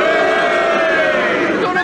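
A radio panel-show studio audience cheers together in a loud, sustained massed roar of voices, close and dense throughout the short stretch.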